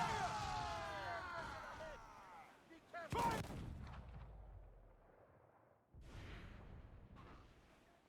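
Ship cannons fire in an Assassin's Creed Freedom Cry naval battle, with a loud boom and rushing whoosh at the start followed by further blasts amid rumbling game sound.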